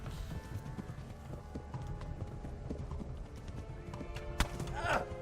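Hooves of a horse galloping in the medieval video game Kingdom Come Deliverance, a steady run of close clip-clop beats, with a voice talking over the hoofbeats.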